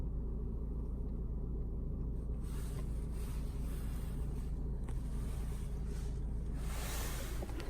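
A car engine idles with a steady, even low rumble that holds for the whole stretch, with no talking over it.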